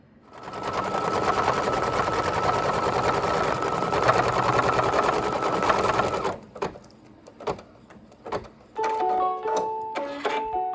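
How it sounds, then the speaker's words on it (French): An embroidery machine stitches a hat motif onto fabric held in its frame, a loud, steady, fast mechanical whirr for about six seconds, then stops and gives way to a few clicks and short electronic beeps. "Je n'ai pas sorti le cadre de la machine, j'ai changé le fil, je vais maintenant broder le chapeau."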